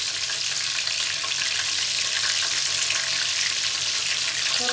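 Chicken frying in hot oil until golden brown and crispy, Jollibee style, as a continuous dense sizzle that holds steady and fairly loud throughout, with no voices.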